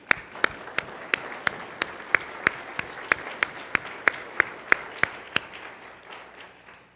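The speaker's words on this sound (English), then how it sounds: "Can we applaud and say thank you?" Attendees of an annual parish meeting clap after a vote. The claps are sharp, evenly spaced and in unison, about three per second over a soft background wash, and they fade out near the end.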